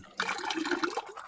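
Water tipped out of a gold prospecting pan, a short rushing splash that starts abruptly and pours for about a second, close by with no talking.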